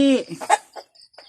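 A chicken gives a brief burst of clucking close by: a drawn-out call followed by a few short, sharp clucks.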